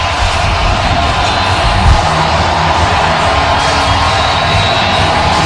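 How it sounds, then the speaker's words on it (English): Stadium crowd at an NFL football game between the Washington Commanders and Baltimore Ravens, a broad steady roar of cheering and yelling that holds loud and continuous throughout. "And this crowd's starting to get into it now."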